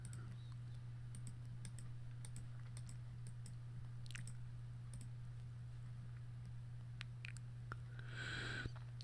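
Computer mouse and keyboard clicks during photo editing at a desk, a steady scatter of small, close taps and clicks over a constant low electrical hum, with a brief brighter burst near the end.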